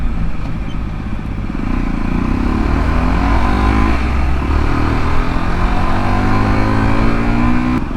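A motorcycle cruises along a road, its engine droning steadily and loud up close with gentle rises in pitch as it accelerates, wind noise underneath and no talk.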